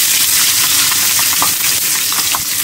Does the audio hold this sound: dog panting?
no